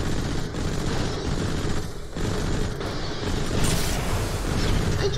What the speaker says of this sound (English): I threw a grenade at you.